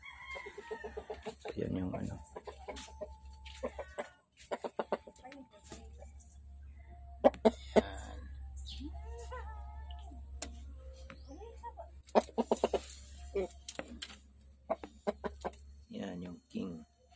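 A backyard rooster clucks and crows in short, scattered bursts at close range, alternating with someone speaking in Filipino over a low steady hum.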